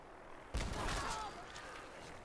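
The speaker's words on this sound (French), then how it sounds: "En fait, la grenade a sauté dans les airs une fois que ça voulait exploser." A grenade goes off in Fallout 4 combat as one sudden loud burst, then a rumbling roar that fades over about a second while a voice speaks faintly underneath.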